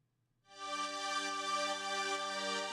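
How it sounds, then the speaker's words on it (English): Filtered synth pad preset producing a bright, high string-like tone for a 138 BPM trance track, entering after brief silence and sustaining steadily and loudly with rich harmonics. "This kind of adds a little high string sound."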